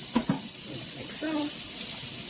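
Faucet water streams into a sink over raw chicken being rinsed, a steady wash with a couple of quick clunks at the start and a faint voice-like tone midway.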